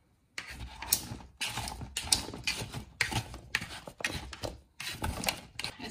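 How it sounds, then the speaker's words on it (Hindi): Vegetables tossed with salt and hot sauce for a baked chicken dish, mixed in bursts of close, busy scraping and rustling with short pauses between strokes. "और अब हम इसको अच्छे से मिक्स करेंगे।"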